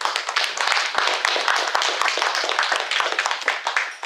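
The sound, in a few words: audience applauding a guest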